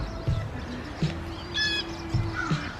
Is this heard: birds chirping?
yes